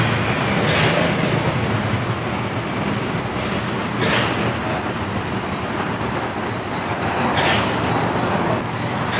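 A train rumbles steadily past at an unguarded level crossing in Medan, loud and close, with continuous wheel and carriage noise and periodic clatters along the rails.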